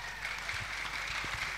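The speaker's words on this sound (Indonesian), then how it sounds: "tepuk tangan untuk semua yang hadir" Audience applause at a political event with Gus Imin and the creative economy community in Probolinggo, a steady wash of clapping from a crowd, moderately loud and continuous with no talk over it.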